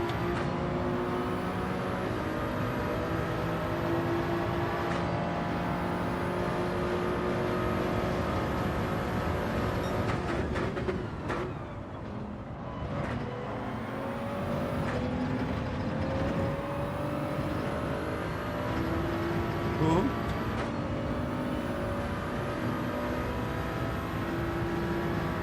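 Engine of a car in the video game Gran Turismo 7, sustained loud revving with pitch sweeps as gears change, including a dip and recovery midway as it drops through gears.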